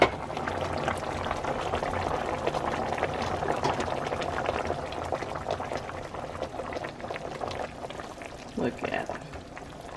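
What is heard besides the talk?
sweet potatoes boiling in a covered pot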